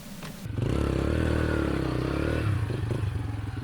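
A dirt bike engine runs as a beginner rider learns to ride and shift gears, rising to a steady close drone with some mechanical clatter, then easing slightly.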